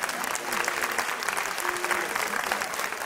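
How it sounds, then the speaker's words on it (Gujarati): Audience applause at a Krishna-themed talk for a ladies' club, a dense steady patter of many hands clapping at even volume throughout, with no pauses. "એકવાર જોરદાર તાળીઓ દીધી કૃષ્ણ નામે."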